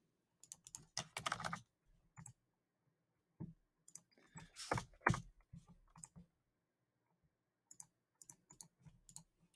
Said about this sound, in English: So let's just go ahead and type in that as a value.